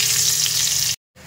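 Green chillies and nigella seeds frying in hot oil, a loud, steady, dense sizzle that cuts off abruptly and then returns more faintly.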